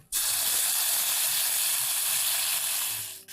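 Soaked and ground Kashmiri red chili paste hits a hot pan, giving a steady, bright sizzle and hiss that holds for a few seconds and then fades, with no talking.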